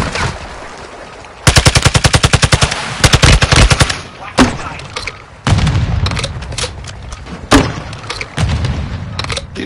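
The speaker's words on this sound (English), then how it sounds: "Taking enemy fire!" Loud enemy gunfire fills a video game battle, with long rapid automatic bursts, heavy booms and overlapping chaotic shots that continue almost without pause.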